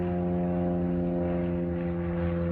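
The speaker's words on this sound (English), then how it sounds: "there's a plane flying over" A propeller airplane flies overhead at dusk, a steady droning hum with a buzzy engine tone, fairly distant and unbroken, with no voices.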